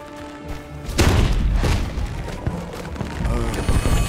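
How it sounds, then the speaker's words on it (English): Fiona fireworks bursting in the Shrek Forever After Xbox 360 game: a single loud boom lands about a second in and gives way to a dense crackling, thumping rumble over game music that carries on to the end. "Love the Fiona fireworks."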